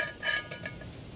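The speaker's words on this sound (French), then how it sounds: "Et on met la casserole comme ça." A metal camping pot clinks and scrapes briefly as it is set down on a metal camping stove, close and quiet.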